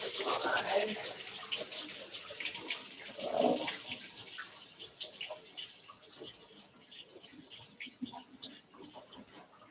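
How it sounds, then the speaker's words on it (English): A kitchen tap runs while mushrooms are rinsed under it, a close splashing flow loudest at the start and easing into softer, uneven trickling. "Now I will wash them first."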